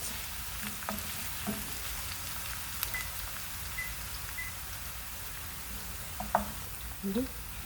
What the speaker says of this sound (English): next I'm gonna put in the garlic. All right, so cook that also for another minute